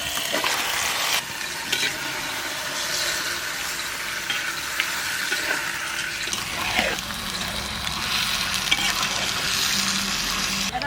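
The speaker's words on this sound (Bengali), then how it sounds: "এবার এই যে মশলাটা কষাচ্ছি।" Spice paste for mutton curry stir-fried in a clay pot: a steady, loud sizzle runs throughout, with scraping stirs and a few wet, watery splutters and knocks.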